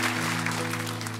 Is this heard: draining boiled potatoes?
no